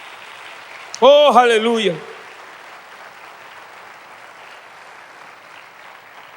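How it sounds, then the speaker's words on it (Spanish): An audience applauds in a church service, a steady, fairly soft wash of clapping that continues after a voice rings out briefly near the start. "Denle un aplauso al Señor, por favor."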